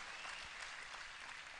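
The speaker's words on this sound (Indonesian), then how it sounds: "Tepuk tangan buat masyarakat Gunung Kidul" Steady applause from a crowd at a live religious talk in Gunung Kidul, Indonesia, dense and continuous clapping throughout the short moment.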